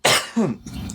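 Two rough coughs in quick succession from a person close to the microphone, the second lower and throatier, followed by a brief breathy trailing sound.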